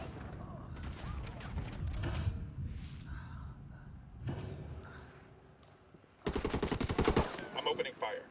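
Video game gunfire with muffled rapid shots and thumps under game voices and chatter, then a loud, close burst of automatic fire near the end.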